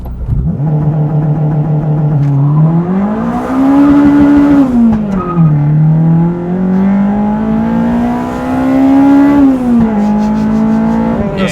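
A Honda Civic Type R EP3 with a limited-slip differential revs hard through wheel spin, the engine note climbing and dipping loudly and up close, with a sustained screeching tone of tyres squealing on the road.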